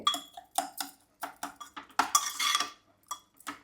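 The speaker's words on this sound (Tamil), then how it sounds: "பற்ற வச்சுட்டு இதை நல்லா இப்படி கிண்டி விட்டுக்கோங்க" A spoon stirs cooked dal with tomato and onion in a metal pot, giving a quick rhythmic run of close scraping clinks and clanks, with a longer rasping stir in the middle.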